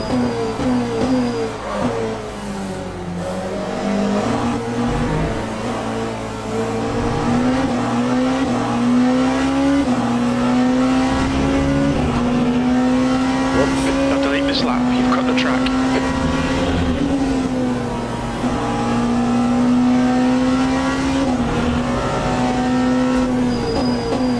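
A race car in the Le Mans Ultimate sim racing game drones steadily under acceleration, its engine pitch climbing and dipping through the gears, loud and continuous beneath a commentator's talking.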